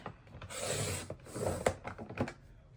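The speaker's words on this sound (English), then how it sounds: "put the paper into my trimmer horizontally the way that it would look on the page" Paper trimmer slicing scrapbooking paper strips: two sliding, rasping blade strokes in a row, close and fairly quiet, followed by light clicks and taps of the cutter mechanism, with no talking.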